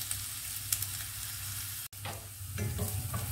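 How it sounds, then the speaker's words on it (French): Red onions sautéing in a pan, a soft steady sizzle with occasional stirring taps, quiet and close with no talking. "J'ai fait revenir les oignons un petit peu quand même."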